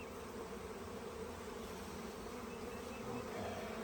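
A swarm of honey bees hums in a steady, dense, faint drone outdoors, continuous with no voices.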